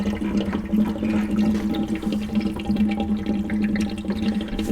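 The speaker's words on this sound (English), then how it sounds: "You can see some water's coming out." Water gushes and splashes steadily from the opened valves of a Rinnai RSC160iN tankless water heater during a flush, debris carried along in a close, continuous, burbling flow with no talking over it.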